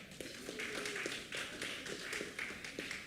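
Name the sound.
audience clapping at a constituency meeting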